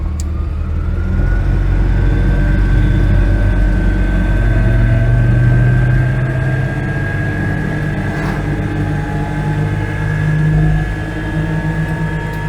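An Invacar invalid carriage pulls away and drives on, its engine a steady loud drone with a rising whine, heard close and continuous throughout.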